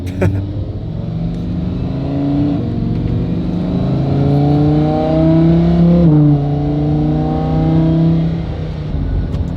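A Lamborghini that has failed inspection, accelerating hard on a test drive: the engine note climbs through the gears in long rising pulls with a brief drop at each shift, loud and close from inside the car.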